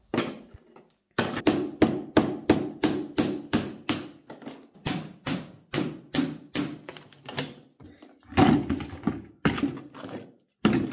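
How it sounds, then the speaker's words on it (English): A hammer strikes a bolster again and again, chipping old tiles off thin 4mm plywood. The blows are close and sharp, about two per second, with a short break before they resume. "To do this, I'm using a hammer and a bolster."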